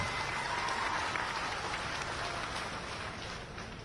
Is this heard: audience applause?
yes